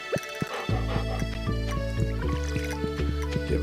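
Water pours into a dog's bowl in the farming game Stardew Valley, a short liquid splash with bright dripping tones sitting over steady game music, moderately loud and close.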